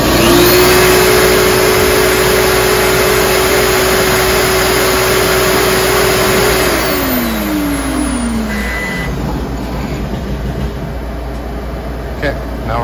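A Summa F1612 flatbed cutter's motor winds up with a steady mechanical whine and broadband roar, holding constant for several seconds before the pitch sweeps down as it settles, loud and close throughout.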